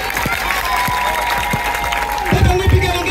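A crowd applauds for the patriots at a Swahili-language gathering of Fizi officials handing out food, with a steady wash of clapping under a loud voice speaking over a public address system.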